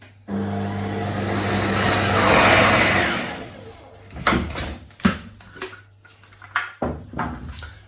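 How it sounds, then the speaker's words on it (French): A food processor blending walnuts and icing sugar at speed 6 whirs loudly for about three seconds, then stops; sharp knocks and clatter of the bowl and lid follow. "je vais commencer par mixer donc les noix et le sucre glace"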